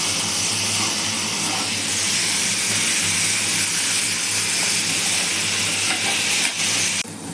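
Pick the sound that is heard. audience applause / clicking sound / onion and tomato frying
onion and tomato frying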